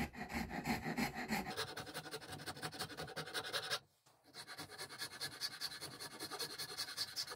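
A rasp file scrapes over wood in rapid, rhythmic back-and-forth strokes close up, pausing briefly midway before the strokes resume, with no talk.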